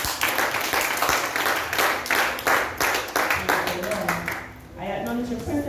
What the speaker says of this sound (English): Let us make him welcome with a clap offering.